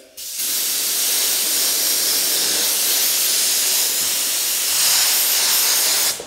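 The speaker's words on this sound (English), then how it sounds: "you want to use some compressed air" Compressed air blasts steadily across a masked, cleaned car body surface during paint prep, a loud continuous hiss lasting several seconds before stopping abruptly.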